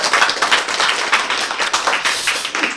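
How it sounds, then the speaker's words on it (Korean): An audience at a Korean health lecture claps their hands together in quick, steady, dense applause close by, with no voices over it. "박수 쳐야지!"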